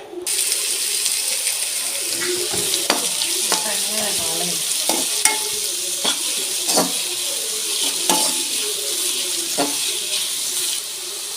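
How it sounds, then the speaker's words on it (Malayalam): Chopped onion, green chili, ginger and curry leaves sizzle steadily in hot oil for an egg thoran, with intermittent scraping stirs and spoon clinks over a constant frying hiss; no talking. "നമ്മൾ അരിഞ്ഞു വെച്ചിരിക്കുന്ന ഉള്ളിയും പച്ചമുളകും ഇഞ്ചിയും കറിവേപ്പിലയും കൂടെ എണ്ണയിലേക്ക് ഇട്ട് കൊടുക്കാം"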